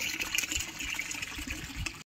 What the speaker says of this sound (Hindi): यहाँ पे हौदी भर रही